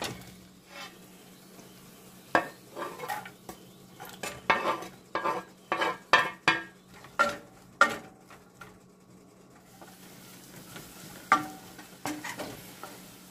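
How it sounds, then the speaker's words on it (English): Onion and garlic dumped into melted margarine in a small sauce pot, giving a low steady sizzle broken by a run of sharp clatters and stirring knocks from utensils against the pot, with no talking. "I'm going to dump this onion and garlic into my margarine and my little sauce pot."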